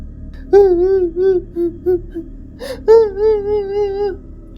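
A girl cries and whimpers in a dramatized story, a series of high, wavering wails and short sobbing bursts, close and loud over a quiet background.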